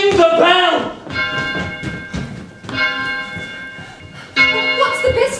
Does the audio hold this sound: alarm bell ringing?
yes